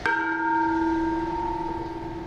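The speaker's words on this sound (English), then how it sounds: "Here we see the little boy ringing the bell." A small boy strikes a bell at a Burmese temple: one clear metallic stroke rings out and hums with a long, steady sustain that slowly fades.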